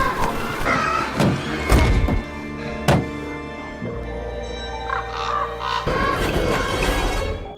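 A flock of crows attacks a man, with repeated harsh caws over heavy thumps and thuds, then a dense, layered din of cawing and flapping that holds loud throughout.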